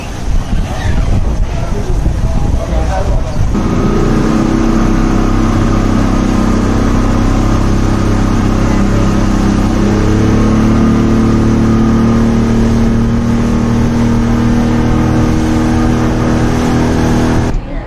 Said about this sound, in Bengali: আমাদের স্পিডবোট চলে আসছে